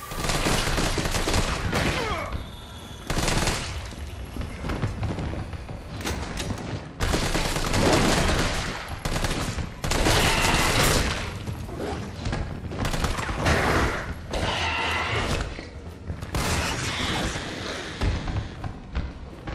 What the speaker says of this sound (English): That there goes all my assault rifle bullets